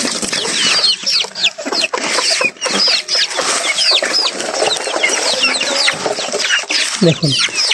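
Native chickens crowd around feed and keep up a dense, close run of clucks and chirps, with a person speaking intermittently over them.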